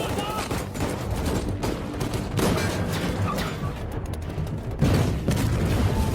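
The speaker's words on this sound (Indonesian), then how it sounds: "baku tembak antara militer dan anak buah Zen pun tak bisa dihindari lagi" Gunfire from a film shootout between the military and gangster henchmen in a Chinatown area, heard as dense, continuous bursts of shots and booms, loud and chaotic throughout, with a voice speaking over it.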